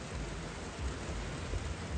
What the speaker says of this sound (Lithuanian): Lyja.